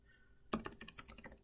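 Computer keyboard typing starts abruptly after a quiet moment, a close, steady run of crisp key clicks at a quick, even pace with no talking.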